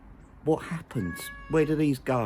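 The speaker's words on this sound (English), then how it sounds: "Sorry for the noise, the cat's coming back." A house cat meows twice, close and clear, while a person speaks over and between the calls.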